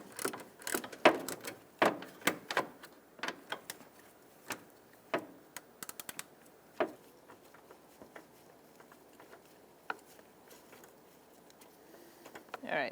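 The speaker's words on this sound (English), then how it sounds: "We're going to use a 10 millimeter socket, and we are going to loosen up this bolt" A ratchet with a 10 mm socket loosening a bolt on a 2000–2007 Ford Taurus near the coolant reservoir, making bursts of quick clicking that thin into scattered single ticks, close and fairly quiet.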